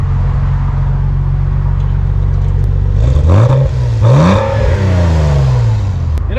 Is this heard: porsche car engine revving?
yes